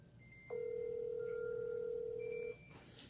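A single electronic ring tone sounds steadily for about two seconds over quiet background hiss, then stops, as a Samsung Galaxy Watch LTE smartwatch receives an incoming call.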